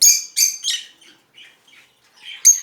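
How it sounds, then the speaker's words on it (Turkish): Lovebirds, including mutation-colour birds, chirping in their cage with sharp, loud, high tweets in quick bursts, then softer scattered calls and a final shrill chirp. "burada bir takım sevda papağanım var"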